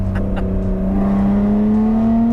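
Lotus Evora 400 with its large rear-mounted engine accelerating, a close, loud whine that rises steadily in pitch after a brief gear change, with no voices over it.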